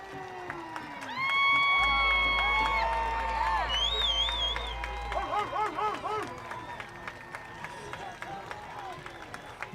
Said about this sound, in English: Big hometown crowd here tonight.